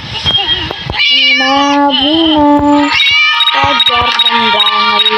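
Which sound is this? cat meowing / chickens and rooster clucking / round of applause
cat meowing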